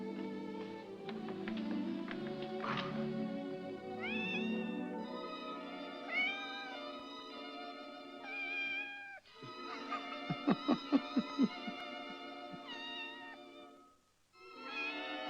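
A cat meows repeatedly in a long, wavering cry, moderately close, broken by a brief gap, while a rapid series of sharp taps sounds midway.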